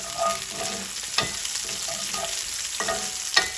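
A small onion, two garlic cloves and curry leaves sauté in hot oil, sizzling steadily while a spoon stirs through with several sharp scraping strokes.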